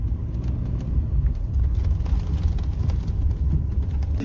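A high-clearance 4-wheel-drive vehicle crawling along the rough, gnarly Schaefer Trail on a cliff edge, a steady loud low rumble of engine and tires jolting over rocky dirt.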